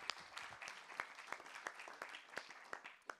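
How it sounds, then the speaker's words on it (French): Sparse, quiet clapping from a small conference audience, a loose run of separate hand claps about three a second, fairly distant and with no voices over it. "Donc, on l'applaudit aussi."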